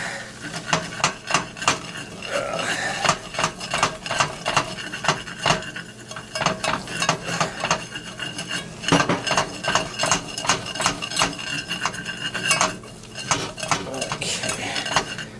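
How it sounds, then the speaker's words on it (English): A roux being stirred in a pan for a Woolton pie, heard as rapid, close clinking and scraping of a utensil against the pan, continuous and fairly loud throughout. "So we are making this roux."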